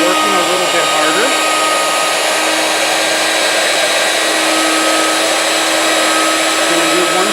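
A CNC machine cuts the outside profile of a workpiece, a loud continuous whirring drone with a steady pitch throughout, close up and with no voices.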